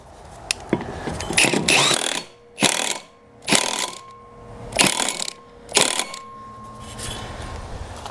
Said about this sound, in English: Now you'll need a 1 by 1/8 of an inch socket to get this nut on.